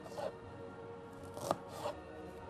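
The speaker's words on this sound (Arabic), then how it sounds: "أول شيء نبدأ فيه طبعا اللي هي تقطيع الكشنة اللي راح تكون مع اللحم" Onions are chopped with a knife on a cutting board for a traditional northern meat dish. A few sparse, sharp knife strikes land on the board, with quiet room tone between them and no talking.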